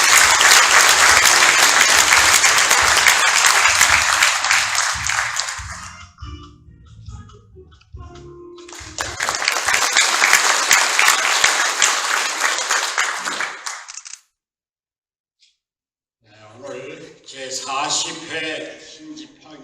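Loud, sustained applause from a large crowd at a White Cane Day ceremony fades, swells again into a second long round, then cuts off before a voice begins speaking.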